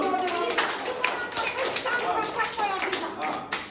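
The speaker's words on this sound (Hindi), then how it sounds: "यसको नाममा ताली दिनु।" A church congregation claps together in a dense, uneven patter of hands across the few seconds.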